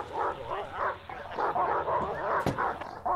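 A dog locked inside a car in the Silent Hill Downpour video game barks repeatedly in an agitated, whimpering rhythm, fairly close and steady over a low game ambience, with one sharp knock or thud partway through.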